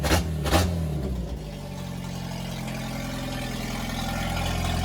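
A Jeep YJ engine cranks and catches with a couple of sharp bursts, then settles into a steady, fairly loud running drone, alone with no voices.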